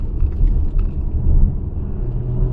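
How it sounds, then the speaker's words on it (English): A Hyundai Tucson plug-in hybrid's gas engine kicks in briefly while climbing a hill, a loud low rumble and road noise that swells and eases over a couple of seconds, with no talk. "The gas engine came on for just a moment and shut right off again"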